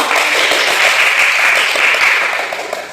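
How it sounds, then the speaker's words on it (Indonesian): Students in an Indonesian junior high classroom applaud together, a dense, steady burst of clapping that fills the room for a few seconds before tapering off slightly at the end. "Aplaus dulu semua kalian."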